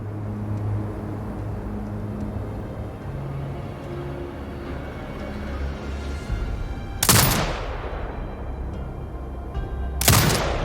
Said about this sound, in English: Exit binocular mode and command the turret to fire.